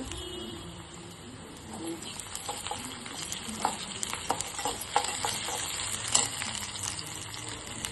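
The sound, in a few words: onion frying in pan, ginger garlic paste added, prawn curry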